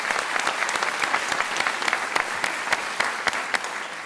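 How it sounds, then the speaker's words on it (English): An audience at a city mayoral forum in Bartlett applauds, with brisk, close clapping and individual sharp claps standing out from the steady patter for about four seconds. "I want to give a big applause here to Eric Barnes."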